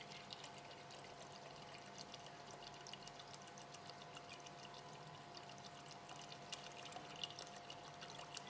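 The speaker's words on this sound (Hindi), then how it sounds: "चिकन के बाद हमने इसमें पानी शामिल किया है।" Water pours steadily into a pot holding bone-in chicken pieces for a soup broth, a continuous faint splashing trickle with no talk over it.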